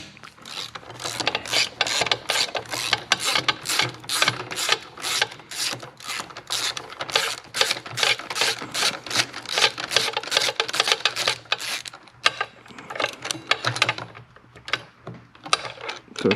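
A socket wrench ratchets out a starter bolt on a Harley-Davidson motorcycle, giving rapid repeated clicking strokes in bursts that pause briefly near the end, close and clear with no talk.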